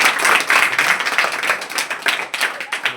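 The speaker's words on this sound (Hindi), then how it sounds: "ताली लगा जरा इसके नाम पर जरा।" Tuition students applaud a classmate being honoured with a pen: dense, fast clapping from a small group, close and steady for about three seconds with no speech over it.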